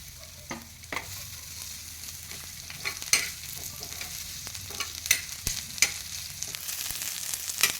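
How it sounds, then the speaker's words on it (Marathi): Onion fries in a little oil in a pan for an aloo-vangi bhaji, a soft steady sizzle broken by scrapes and taps from a stirring spoon at irregular intervals, close and quiet with no voices. "कांदा भाजून घेणार आहे मी थोडंसं तेल घालून."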